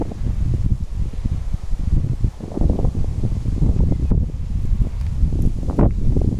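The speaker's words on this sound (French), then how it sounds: "Il doit y avoir un peu de vent, ça doit être embêtant pour vous." Wind buffets a microphone outdoors at a monumental staircase viewpoint, with gusty low rumbling bursts rising and falling irregularly throughout.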